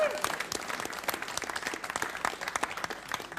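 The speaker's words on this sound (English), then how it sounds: "Give him a big round of applause." Audience applause at a live Irish traditional music event, a dense burst of many hands clapping that holds steady throughout at moderate loudness, with no one speaking over it.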